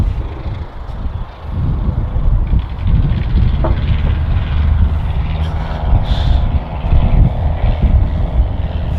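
A little model plane makes a touch and go near Manchester City Airport, its engine a steady, fairly loud drone lasting throughout, with a broadband rumble and no talk.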